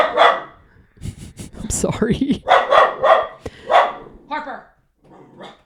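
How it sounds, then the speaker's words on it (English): A pet dog barks in a series of loud, close, sharp barks with some growly yips, while a person speaks briefly over and between them indoors. "Oh God, my dog is barking."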